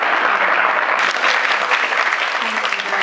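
Audience applause at a Black History Month celebration honoring a Georgia state representative, a steady dense wash of clapping lasting about three seconds, close and loud, briefly intensifying midway with faint voices mixed in.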